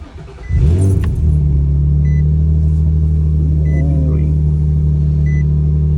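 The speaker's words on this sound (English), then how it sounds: "All right, we're gonna start her up, take her for a little cruise" An Infiniti G35 car engine cranks and catches, then settles into a steady, loud low idle rumble close by, with faint key or interior clicks over it.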